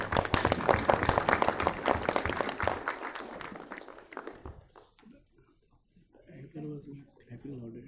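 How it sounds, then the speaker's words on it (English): Audience applause in a conference hall, a dense wash of clapping that fills the opening seconds and then thins out. Speech follows over the quieter second half. "Clapping louder, why?"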